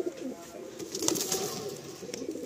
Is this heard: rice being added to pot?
no